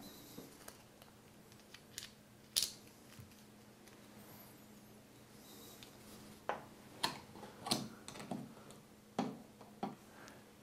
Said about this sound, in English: And then I'll put the screws back in it.